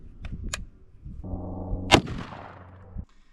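An AR-15 rifle fires one 55 grain 5.56 round into bricks: a single sharp, loud report after a short stretch of low mechanical hum, fading into a brief ringing tail.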